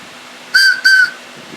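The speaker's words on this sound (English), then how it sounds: "And there's the whistle." A whistle made from a pen blank being blown, two short shrill blasts in quick succession, loud and close in a quiet room.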